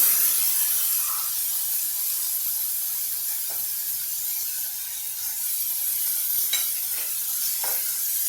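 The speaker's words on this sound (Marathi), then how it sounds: "थोडंसं याला परतवून घेऊया" A South Indian temple-style khichdi made without onion or garlic is stirred and sautéed in a pan, giving a continuous sizzling hiss with a few soft scraping strokes near the end.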